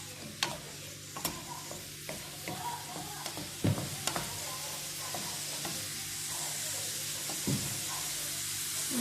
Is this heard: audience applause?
no